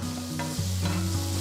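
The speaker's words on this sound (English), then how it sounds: "Saute the onions for about 2 to 3 minutes." Chopped onions and garlic sauté in oil in a pan, giving a brief, steady close-up sizzle over continuous background music.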